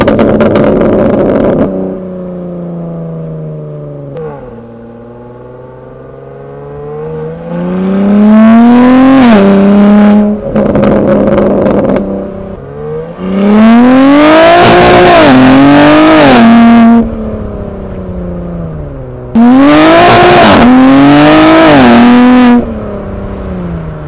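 A BMW G82 M4 with a newly installed mid-pipe revs loudly through its exhaust, captured close at the rear: an idle, then several sharp climbing revs that rasp and fall back between pulls.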